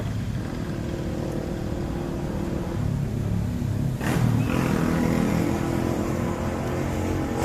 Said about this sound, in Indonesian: banyak suara motor.